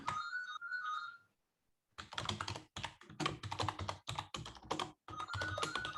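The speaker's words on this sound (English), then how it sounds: "Sorry about the phone in the background." A telephone rings in the background of a room, a repeating tone heard at the start and again near the end, mixed with close computer keyboard typing.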